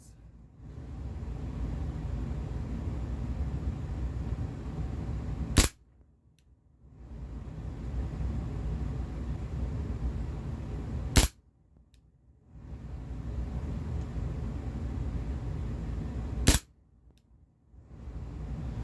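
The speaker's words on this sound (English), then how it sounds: "With the CO2, I can feel there's more of a snappy blowback." A Cybergun Desert Eagle CO2 BB pistol fires three sharp, loud single shots with snappy blowback, spaced about five seconds apart, each crack standing out over a steady background hiss.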